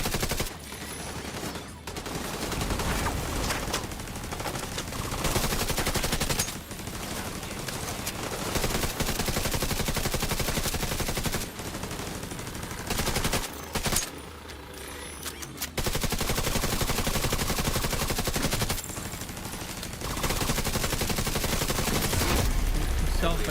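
Pistol gunfire in a video game, loud dense volleys of shots running almost continuously with only brief pauses.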